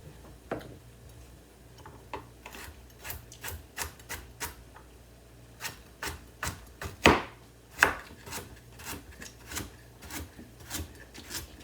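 A knife chops onions on a cutting board in a steady run of sharp, close taps, with a few louder strikes near the middle and no talk over it.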